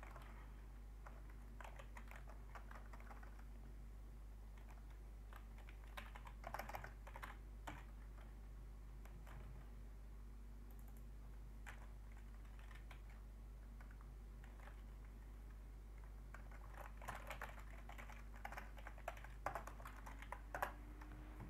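Computer keyboard typing while writing code in Roblox Studio, soft irregular clicks in bursts with pauses, close and quiet, with no talking.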